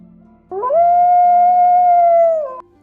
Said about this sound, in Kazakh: Қасқыр.